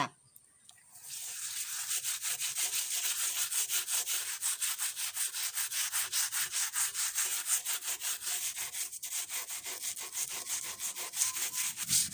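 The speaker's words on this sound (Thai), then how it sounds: "เราก็จะขัดแบบนี้ให้ครบทุกด้านเลยนะคะ" Steady back-and-forth scrubbing of a wooden cutting board with a scouring pad after a baking soda and lemon treatment, a rhythmic, close, bright rasping that runs continuously with no talking.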